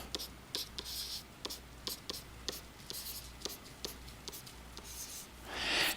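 Pencil or pen scratches by hand across paper while drawing a number line graph, in short, irregular strokes and taps, close and quiet, with a faint rustle near the end.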